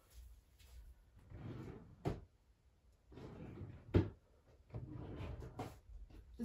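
A drawer being opened and closed, two sharp wooden knocks and slides separated by quiet rustling, faint and close with no talking.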